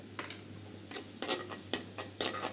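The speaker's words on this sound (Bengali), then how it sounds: "একটু জিরাটা ফুটে আসছে" Whole cumin seeds splutter in hot oil with browning onions while a home-style chicken curry is cooked: faint, scattered crackling pops in short irregular bursts over a quiet background.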